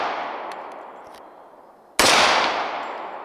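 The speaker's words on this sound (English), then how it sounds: "Little quicker shots now." Rapid pistol shots from a Sbardella Arms full-stroke 1911 Commander fired at steel targets 21 yards away on an outdoor range; one sharp, loud report cuts in partway through after a decaying tail, with faint distant pings.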